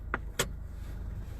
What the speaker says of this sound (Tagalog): I'm just gonna open the hood.